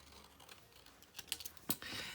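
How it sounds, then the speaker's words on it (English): Scissors cut a rectangle from a strip of kraft paper at a card-making class: a few soft snips, then sharper, brighter cuts toward the end, close and quiet with no talk. "I am going to cut a rectangle."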